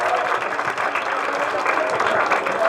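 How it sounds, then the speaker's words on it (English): An audience at a science centre quiz session applauds steadily for a participant, a dense, even wash of many hands clapping at close range with no break. "Big round of applause to her."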